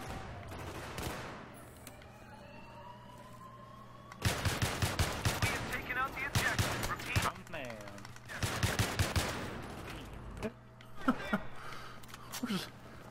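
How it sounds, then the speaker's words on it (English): Bursts of automatic gunfire in Battlefield 3 rattle in two long volleys with scattered single shots, while a player shouts and talks excitedly over the shooting. "I'm getting shot at!"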